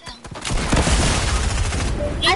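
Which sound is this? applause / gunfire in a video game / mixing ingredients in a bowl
gunfire in a video game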